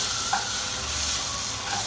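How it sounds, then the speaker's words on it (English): Strip steak sears in butter in a pan, a steady close sizzle and hiss running through with a couple of faint utensil taps. "We want to give some butter searing to the steak"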